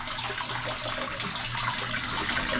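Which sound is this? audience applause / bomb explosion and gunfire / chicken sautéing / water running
water running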